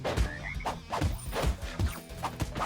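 Frog enemies croak repeatedly in the hand-drawn jungle beat 'em up Tunche, a string of short, loud, rhythmic croaks with a few thuds mixed in.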